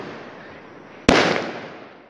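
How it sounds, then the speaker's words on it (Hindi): A single sharp firecracker bang bursts loudly during Diwali 2021 in a Kanpur street, cutting through a low, steady background hum, with the echo fading over the following second. "चारों तरफ पटाखों की आवाज से"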